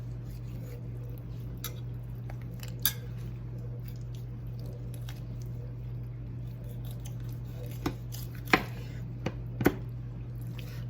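A freshly sharpened knife cuts through a raw chicken at the joint, giving a few sparse, sharp clicks and cracks over a steady low electrical hum, otherwise quiet.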